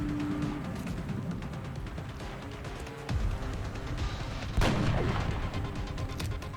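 Sniper rifle fire in the strategy video game XCOM Enemy Within, sounding as booming gunshot blasts over a dense background, with a sharp report near the three-second mark and another around four and a half seconds.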